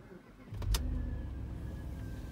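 An Audi S8 V8 engine, just back together after timing work, cranks with a brief loud burst and then settles into a steady, close idle that carries on to the end.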